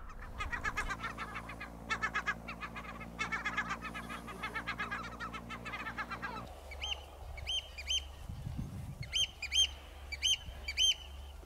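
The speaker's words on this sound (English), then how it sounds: "broken only by the squawk of seabirds" Seabirds squawk and honk in repeated bursts on a deserted, abandoned slate island, loud and close at first, with higher calls and an engine-like drone in the background.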